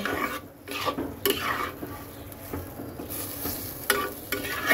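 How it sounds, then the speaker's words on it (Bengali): Boiled taro leaves with cumin powder sizzle in a pan over low heat, a close steady frying hiss punctuated by spoon scrapes and clinks against the metal. "এইবার কম আঁচে এটাকে সুন্দর করে শুধু কষাতে হবে"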